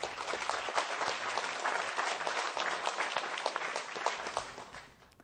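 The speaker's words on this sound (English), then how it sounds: "give them the round of applause they deserve" Applause at a nursing excellence awards ceremony, honoring runners-up joining by video call: dense, steady clapping from an audience filling the whole stretch, loud and close, tapering slightly at the end.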